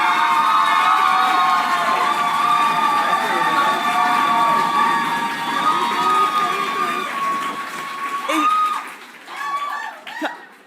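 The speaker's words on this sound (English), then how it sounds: "I'm sensing there's going to be some cheering here." Audience at a hospital staff awards ceremony cheering and whooping loudly, a sustained crowd roar that fades toward the end as a presenter starts talking over it.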